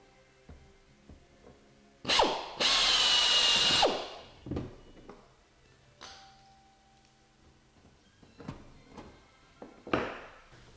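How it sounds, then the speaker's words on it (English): A power drill bores through pre-drilled holes into a channel for the rear fuselage of a Zenith CH701 aircraft, a loud whirring burst of about two seconds with a shorter spin-up before it and scattered clicks and handling knocks afterward. "drill through the pre-drilled holes and into the bottom of the channel"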